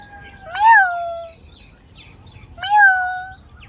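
A cat gives two short, gentle meows a couple of seconds apart, close by, in an otherwise quiet setting.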